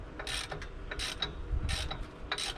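Clicking ratchet of a socket wrench on the alternator as the engine of an old Triumph Spitfire is barred over by hand, a series of close mechanical clicks and turning sounds in rhythmic bursts.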